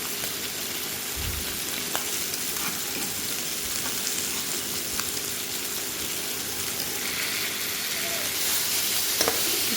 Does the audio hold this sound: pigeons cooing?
no